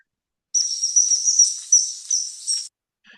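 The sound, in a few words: common kingfisher call, recorded in Japan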